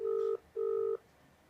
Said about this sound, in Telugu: అనితకి మనం ఫోన్ చేయబోతున్నాం.